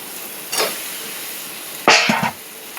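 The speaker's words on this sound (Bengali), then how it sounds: "এবার পটলটা দিয়ে দেবো।" Chopped pointed gourd hitting a pan of lightly fried onions, two short bursts of hissing sizzle, the second louder with a clatter, over quiet kitchen background.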